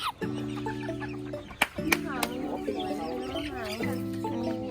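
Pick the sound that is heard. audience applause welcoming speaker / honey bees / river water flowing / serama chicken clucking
serama chicken clucking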